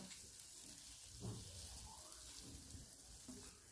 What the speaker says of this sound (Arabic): وما تسمعوا الشباكيه ديالكم كتكتك